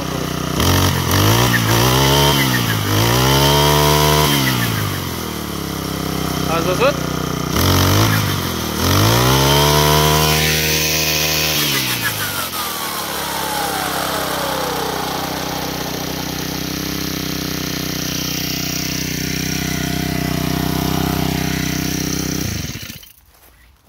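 A key-started Geotech motor hoe engine revs up and down several times in loud rising and falling surges, then settles into a steady, buzzy running drone before cutting out. Someone speaks briefly over it.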